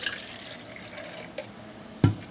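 Water pours into a glass as a light trickling stream, followed near the end by a short, sharper splash or clink close by, with no talking.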